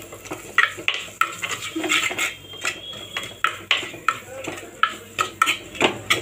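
Onions with pepper powder stirred in a frying pan for egg gravy, a spoon scraping and clinking against the pan in a steady rhythm of close, repeated strokes over a soft background sizzle.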